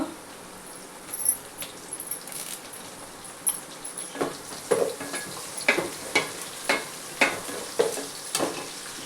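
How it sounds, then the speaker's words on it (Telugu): Curry leaves and onions fry in a pan for fish curry, a soft continuous sizzle punctuated by a steady series of sharp stirring scrapes and clinks, fairly quiet and close. "ఇప్పుడు కరివేపాకు వేసుకుంటున్నాను"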